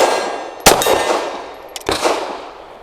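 An ETS pistol magazine seated into the aluminum-frame Ermox X-fire pistol: two sharp, close metallic clacks about a second apart, each ringing briefly before fading, with no speech.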